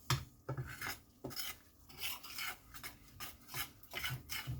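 A spoon rhythmically scraping and rasping against a pan while stirring homemade gravy, repeated strokes about every half second, close but fairly quiet, no talking.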